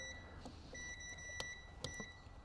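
A multimeter gives faint, steady continuity beeps while its probes are held on the ground and bonding points of a Predator 11500 generator's plug. Small clicks from the probes break in, with no talking.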